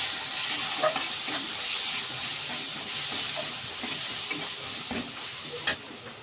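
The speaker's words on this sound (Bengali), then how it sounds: "দিয়ে সবগুলো ভালো করে নাড়াচাড়া করে ভেজে নেব" Ground spices such as cumin and coriander powder being stirred and fried in a pan for a Bengali yardlong bean and potato curry, a steady close sizzle with scraping stirs and soft clinks throughout.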